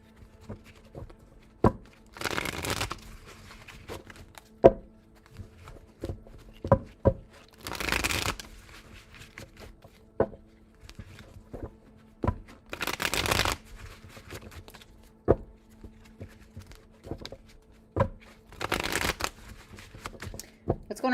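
Tarot cards being shuffled repeatedly, with bursts of riffling and sharp taps and snaps recurring every few seconds, close and crisp under a soft background hum.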